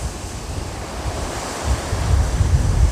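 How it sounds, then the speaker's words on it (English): A creek flowing right beside a hiking trail near Battle Creek Falls, a steady broadband rush of water with some breezy wind noise swelling toward the end, no voices. "we get to hear the creek right next to us."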